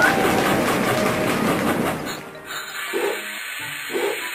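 A toy train rattles along in a toddler circus game for about two seconds, then the clatter stops and bright electronic game chimes and tones follow.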